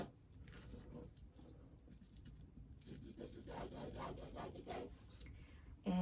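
A pen drawn along quilting fabric to mark a sewing line, giving a close, steady scratchy rubbing that runs in short strokes with no talk.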